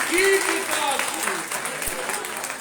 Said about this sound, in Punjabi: ਡਬਲ ਤਾਲੀਆਂ